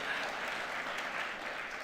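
Congregation at a First Sunday of Advent Mass applauding, a soft, even spread of many hands clapping that comes across as distant and fairly faint for a short burst.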